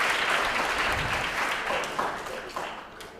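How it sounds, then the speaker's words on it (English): An audience at a university guest lecture gives steady, dense applause that starts strong and slowly tapers off over a few seconds, heard from within the room. "give them applause, please, everyone"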